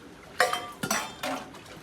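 A few metal utensils clink and clatter together in quick, separate knocks, close and fairly quiet, as dishes are handled during washing in a Punjab home.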